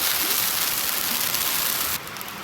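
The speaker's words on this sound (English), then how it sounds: "there's actually rain splattering on top." Rain splattering onto a hot flat-top griddle where rolled tacos are cooking, a steady loud hiss and crackle that drops slightly in level near the end.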